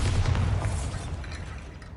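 A Bombarda blasting spell detonates in Hogwarts Legacy, a loud booming burst up front that rumbles and slowly fades over about two seconds.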